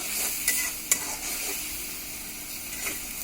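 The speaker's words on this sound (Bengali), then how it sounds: "এখন আমি এটাকে ভালোভাবে কষিয়ে নেব মশলাটাকে" Thick spice paste sizzling in a pan while a spoon stirs it, with a couple of sharp clinks against the pan, steady and close.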